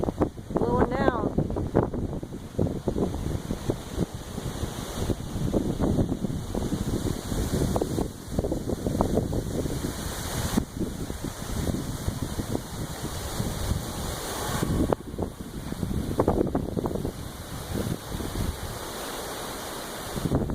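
Strong wind roaring at a barn, a loud continuous buffeting rush that swells and gusts throughout and batters the microphone, with a person speaking briefly over it.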